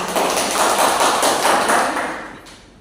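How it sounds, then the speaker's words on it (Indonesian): Applause breaks out in a classroom, a burst of many hands clapping together that is loud at first and then fades out over about two seconds. "Silakan berikan aplaus kepada teman"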